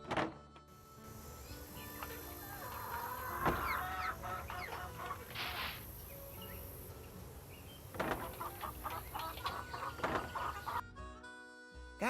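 A chicken clucks in Nancy Drew: Secret of Shadow Ranch, giving a run of fairly close, choppy clucks and squawks in bursts over a faint steady hiss, with no talking.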